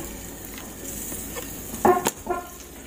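Butter melts in a pan while corn is prepared, giving a soft, steady sizzle with a few brief clinks of stirring near the end. The sound is quiet and close, with no talking.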